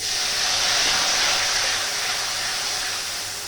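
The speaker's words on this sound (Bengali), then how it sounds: "একটু দিয়ে দেবো জল যেন না পুড়ে যায়।" A close, steady broadband hiss of sizzling as water hits red chilli and coriander powder frying in oil in a pan for chhena potol, fading slightly toward the end with no talk.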